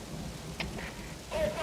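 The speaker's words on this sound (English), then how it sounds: "now you notice it's started to rain" Rain falls steadily on the open deck of Mother Base in Metal Gear Solid V, a soft continuous hiss with a faint low rumble beneath it.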